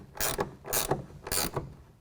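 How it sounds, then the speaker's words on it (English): A 1/2 inch ratcheting wrench tightens a clamp on a roll-up tonneau cover rail, three close, loud bursts of rapid ratchet clicks with short pauses between strokes and no voices. "Again, tightening down with our 1/2 inch ratcheting wrench."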